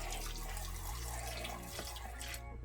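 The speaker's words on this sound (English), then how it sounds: "So we'll use the acetone that we have, pour them into this bath." Acetone pours into a small bath used to soak Tamiya RC car rims and tires, a faint, continuous liquid trickle and splash with no talking.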